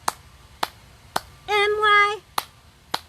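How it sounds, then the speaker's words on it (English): Single sharp hand claps at an even, unhurried pace, five in all, with a sung voice briefly heard between them. "Okay, 3 claps."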